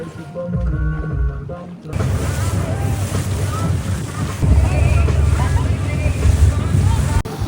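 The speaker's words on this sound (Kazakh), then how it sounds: "Катерде отырмын. Жалғыз өзім." A motorboat speeds up on open water, its engine and hull noise rising into a loud, steady roar mixed with wind buffeting and waves after a quieter start with faint voice-like tones.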